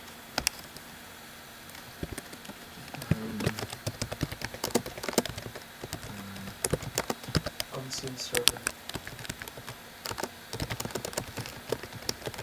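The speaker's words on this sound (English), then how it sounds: "Sorry if you guys hear the me typing whenever I type." Computer keyboard typing in scattered bursts of clicky keystrokes, close and moderately loud, alongside intermittent talk.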